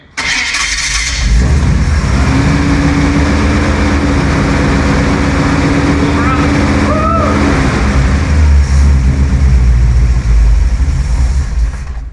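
An old car engine with a fuel supply problem cranks, catches and runs, roaring loudly and revving up near the end, with a brief higher tone in the middle.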